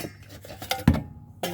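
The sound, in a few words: stainless steel baking pan being handled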